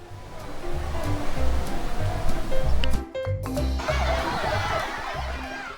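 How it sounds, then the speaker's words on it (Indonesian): Rushing water from the Pacific Wave pool at Ocean Park BSD waterpark in Tangerang, a continuous wash of surf mixed with background music and crowd noise. "Inilah dia Pacific Wave atau kolam ombak yang ada di sini ya."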